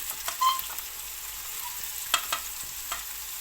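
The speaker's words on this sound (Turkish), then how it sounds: "Şimdi semizotunu ekleyeceğim. Semizotlarımızı da ekleyelim." Purslane hitting a pan of frying tomato paste, with a steady soft sizzle and a few brief stirring scrapes and clicks. Faint and close, no talking.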